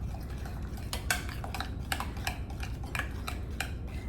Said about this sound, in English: Let's mix it up really well together.